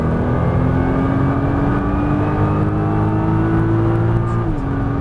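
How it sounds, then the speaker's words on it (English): A Nissan GTR at full throttle on the Las Vegas racetrack gives a loud, close, steady engine roar. Its pitch climbs slowly, then drops sharply near the end as if shifting gear. "Now you can be at full throttle"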